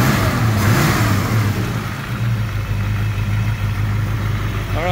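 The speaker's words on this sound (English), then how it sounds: "There's a little 289. Good sounding motor in it." A 1970 Ford Maverick Grabber's 289 V8 runs steadily with a deep, even low rumble, loud and close, with no one speaking.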